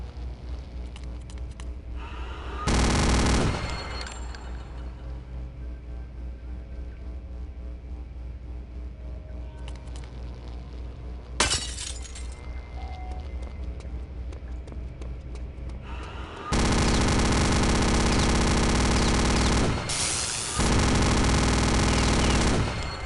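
A machine gun in Return to Castle Wolfenstein fires in loud sustained bursts, a short one early, a sharp shot midway and long continuous rattling toward the end, with quieter game sounds between.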